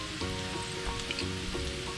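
Chopped garlic and onion frying in a hot pan while cooking pancit, giving a steady close sizzle and crackle with faint stirring scrapes and no talking.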